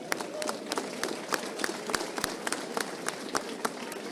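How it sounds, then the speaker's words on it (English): A hurling club's supporters give a round of applause at a junior championship final gathering, with sharp, distinct claps repeating steadily at moderate distance over a soft background murmur. "Give her a round of applause for that."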